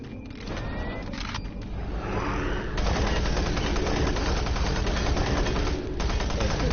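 Weapon fire in the DOOM 3 video game, a rocket launcher in combat on nightmare difficulty, heard as a dense, loud, continuous stretch of blasts and rumbling explosions with no talk over it.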